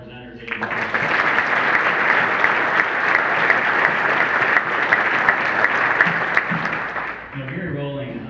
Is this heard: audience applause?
yes